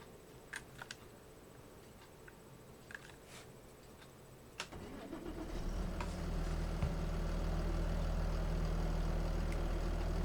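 Tractor engine in the farming video game Farming Simulator 25 starts up and settles into a steady, low idling rumble, preceded by scattered keyboard clicks.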